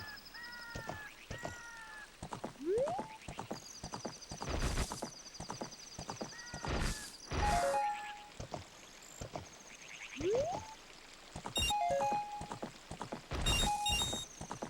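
Steady horse hoofbeats clip-clop throughout, with bright chiming effects and bursts of whooshing noise layered on top, from The Legend of Zelda: Ocarina of Time.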